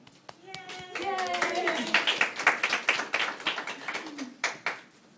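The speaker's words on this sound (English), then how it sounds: "So I'll clap for a happy ending" One person claps by hand at the end of a story, a run of sharp, close claps with a voice talking over the start and a few final claps trailing off alone.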